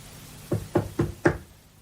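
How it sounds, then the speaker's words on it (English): Four evenly spaced knocks rap on a bedroom door, fairly close and moderately loud, with quiet room tone between them and no talking. "Always best to knock on his door"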